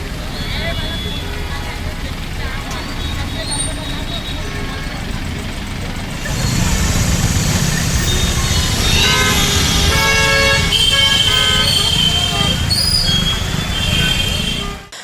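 A long traffic jam on the Balaghat–Garra road, with car and truck engines idling and rolling nearby and a burst of repeated horn toots growing louder and denser in the second half.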